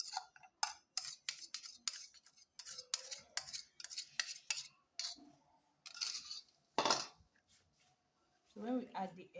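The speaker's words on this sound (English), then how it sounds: "So when we add the egg, we stir." Egg being stirred into peanuts for strawberry-flavoured coated peanuts, a series of clinking and scraping strokes in an irregular rhythm, close by, with a person talking between strokes.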